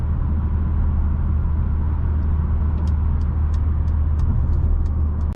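A 2019 Mercedes-Benz B180 at top speed on a German Autobahn: a loud, steady roar of wind and road noise with engine drone underneath, interrupted by a few faint ticking sounds toward the end.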